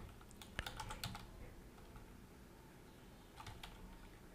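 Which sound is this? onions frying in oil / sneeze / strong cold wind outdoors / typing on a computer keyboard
typing on a computer keyboard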